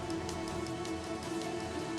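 Steady rain falls as a sound effect, a constant soft hiss of drops pattering on a surface without a break.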